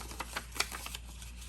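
A small sheet of Tim Holtz craft paper is folded in half, giving soft, quick papery taps and creases, faint and close, with no voices.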